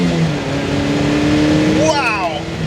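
An Opel Speedster sports car engine revs hard and accelerates, its pitch climbing steadily, with a rising whine sweeping upward near the end; close and loud.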